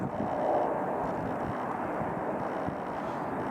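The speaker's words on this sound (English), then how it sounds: "There's a plane. Can you see it? It's going into Lindbergh Field." An airplane heading into Lindbergh Field in San Diego, heard from a distant hilltop as a broad, faint, steady rumble mixed with wind noise, with no voices.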